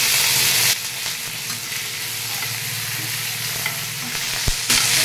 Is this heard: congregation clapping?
no